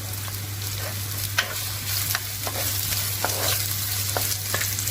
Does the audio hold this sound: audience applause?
no